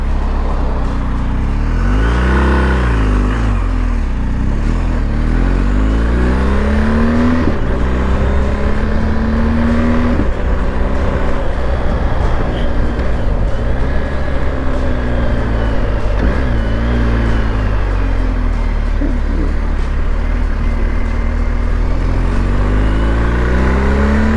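A BMW GSA 1250 motorcycle engine drones loudly and steadily, its pitch climbing and dropping as it accelerates through gear shifts, a bit jerky at low revs and smoother higher up.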